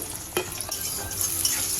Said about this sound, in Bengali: এবার আমি তেলের মধ্যে দিয়ে দেব পেঁয়াজ কুচি করে